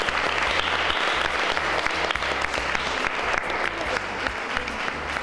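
A crowd at a Mother's Day fête claps steadily and loudly throughout, a dense wash of hand claps with no break and faint voices beneath.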